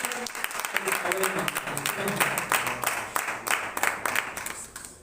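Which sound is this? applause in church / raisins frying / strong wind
applause in church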